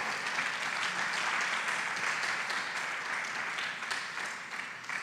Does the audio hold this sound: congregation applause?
yes